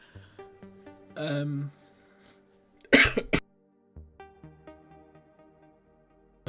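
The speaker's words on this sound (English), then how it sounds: "I had a cough for a second there" A single harsh cough burst stands out mid-clip between quieter voiced sounds and brief noises, fairly close and loud.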